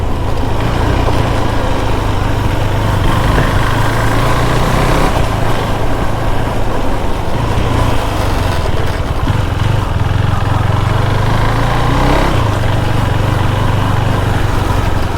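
A KTM Duke 390 motorcycle engine idles nearby, a steady low rumbling hum that holds on for the whole stretch with slight wavering, no voices heard.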